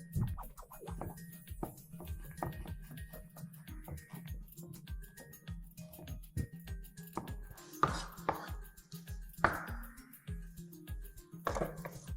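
Knife chopping onion into thin slices on a cutting board, a fast, steady series of close, crisp taps that runs throughout, with a few louder knocks toward the end.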